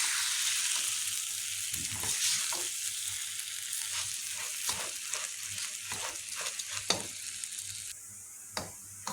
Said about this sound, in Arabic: ونشوح بقى الرز مع الشعرية